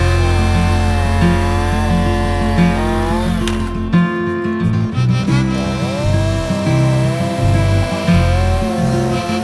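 A Husqvarna chainsaw runs steadily at high revs making a bore cut with the bar tip, its droning engine tone dipping and rising slightly as the bar works into wood, close and loud throughout.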